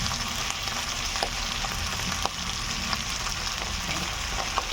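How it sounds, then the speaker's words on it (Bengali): Onions fry in a pan of hot oil and spices for an egg dish, giving a steady, close sizzle with faint crackles throughout and no talking. "পেঁয়াজটা দিয়ে আমি পেঁয়াজটা ভাজব লাল লাল করে ভেজে নেব"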